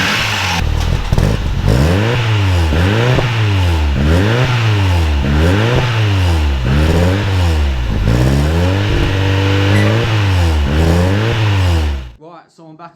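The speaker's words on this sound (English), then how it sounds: "The Cossie ran, obviously after a few little problems you would have seen in the video, but it sounded nice, a little bit tappy on the top end" A Ford Sierra Cosworth engine, recommissioned after more than 15 years off the road, revs repeatedly in loud rising and falling sweeps close by, a little tappy at the top end, before cutting off abruptly.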